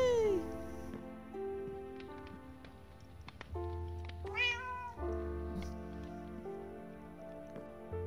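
Cartoonish cat meows from the video game Shorm Grove, a few short tonal calls over gentle game music and soft ambient chimes, fairly quiet.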